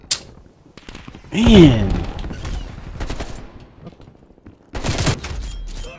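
Gunfire in Call of Duty Black Ops breaks out in two loud automatic bursts, one early and one late, with someone talking in between.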